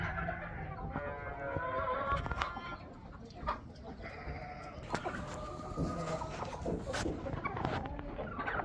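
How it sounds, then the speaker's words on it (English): Farm birds and livestock call in a barn among empty buckets, steady overlapping clucks and bleating-like cries at close range, with scattered rustling and knocks throughout, and no talking. "Just hanging with the chickens."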